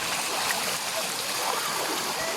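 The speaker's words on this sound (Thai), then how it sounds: "แม่น้ำมันเชี่ยวเล" A swift river stream rushes continuously near Phothisat Cave in Nong Hin, Loei, a steady, loud broadband wash of flowing water.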